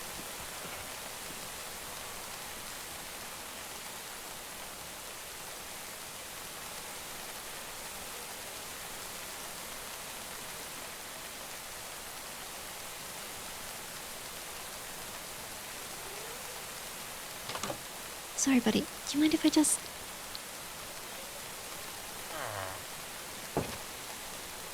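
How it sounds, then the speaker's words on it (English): Steady rain falls across an outdoor area with penned animals, a soft, even hiss that runs unbroken for the whole stretch; near the end a few brief spoken words and small sounds come in over it. "And it's still raining?"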